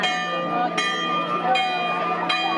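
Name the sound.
bell ringing for school year opening service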